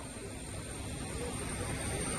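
A jet airliner stands at an airport apron in Egypt, producing a steady, loud broadband engine roar with a high whine throughout, up close and without a break.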